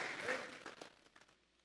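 Church congregation giving a brief burst of applause, a dense patter of clapping that fades quickly into a few scattered claps, quiet and somewhat distant.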